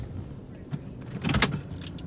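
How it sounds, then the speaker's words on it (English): A car being parked, heard as a low vehicle rumble with a brief mechanical whir like a power window and a short louder burst of movement partway through, all fairly quiet and close. "Let me park this fucking car."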